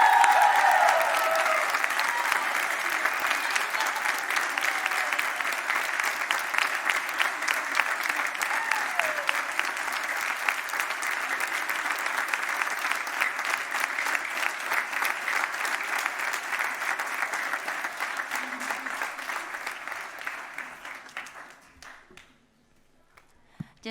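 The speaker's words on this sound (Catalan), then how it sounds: "Un aplaudiment molt gran per la directora" A large concert audience applauds the choir director after a Sant Esteve choral concert, a long sustained burst of many hands clapping that holds for about twenty seconds before fading out. A voice is briefly heard near the start.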